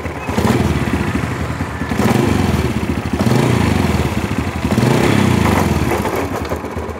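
A Honda Supra Fit New motorcycle engine runs close by with a rough, uneven knocking rumble that swells and fades in waves as the throttle rises and drops, knocking on throttle release.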